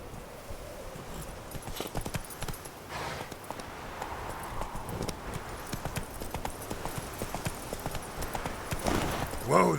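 A horse's hooves clip-clop at a steady gallop in The Witcher 3, a rapid, even rhythm that stays close and fairly loud throughout, with short voice lines and game sounds mixed in.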